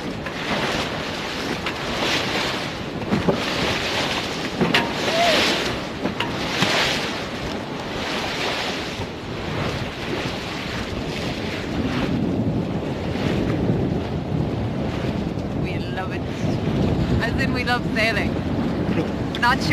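Strong wind buffets the microphone on a sailboat at sea in Irish weather, with continuous waves and rushing water beneath loud, steady gusts throughout.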